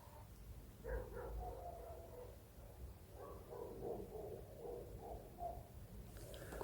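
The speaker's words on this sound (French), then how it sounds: "Beaucoup de chiens." Several dogs bark at a distance outdoors at night, scattered short yaps in loose bursts over a low, steady background hiss.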